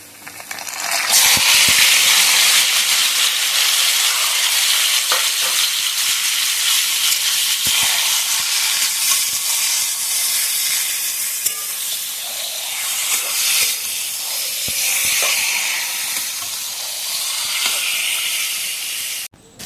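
Steady, loud sizzling of onion and garlic frying red in hot oil before taro leaves are added, a continuous crackling hiss with occasional sharp pops and no talking.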